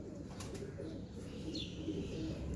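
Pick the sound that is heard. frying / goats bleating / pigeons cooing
pigeons cooing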